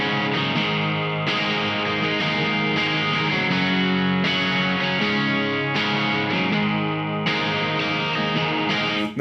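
Electric guitar with Fishman Fluence Classic humbuckers in a 1978 Greco body, played harder through a hot, driven setup with effects, sustained chords ringing loudly and steadily throughout with fresh strums every few seconds.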